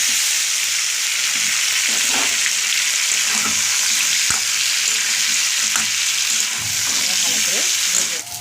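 Potatoes fry in hot oil with a loud, continuous hissing sizzle, close up, with occasional faint clinks and stirring noises and no talking.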